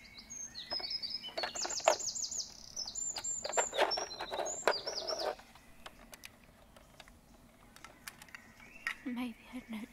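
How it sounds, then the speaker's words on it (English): Birds chirp in trees overhead, bright bursts of tweets clustered early then thinning to sparse calls, fairly close against a quiet background. "the birds are a little bit noisy"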